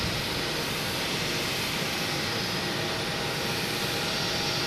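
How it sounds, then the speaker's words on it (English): A Virgin Atlantic airliner arriving from Heathrow at Boston Logan Airport, heard as a steady, dense jet-engine roar that holds even and loud throughout, with no talking. "Oh, we have an arrival. Virgin Atlantic coming in from Heathrow."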